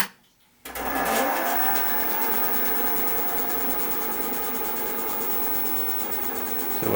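A lathe spins a large segmented wooden bowl at about 370 RPM, a steady continuous whir with a mid-pitched hum that starts abruptly after a brief quiet moment and holds even and fairly loud, with no talking.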